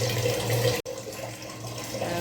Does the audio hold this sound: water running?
yes